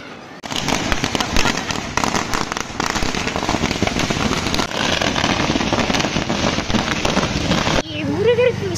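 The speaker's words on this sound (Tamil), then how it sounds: "எங்க வீட்டுக்கு வெளியே அந்த கோயில வந்து விசேஷம் நடந்துட்டு இருக்கு, அதனால வந்து ஃபுல் பட்டாசு அடிச்சிட்டு இருந்தாங்க" Firecrackers burst nonstop at a Murugan temple festival just outside a house in a loud, dense, crackling barrage lasting several seconds. A voice is heard briefly once the bursts drop away.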